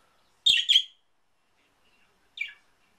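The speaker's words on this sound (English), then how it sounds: "Birds being loud too." Birds outside giving a quick double chirp, then a single fainter chirp a couple of seconds later, heard indoors through otherwise near-silence.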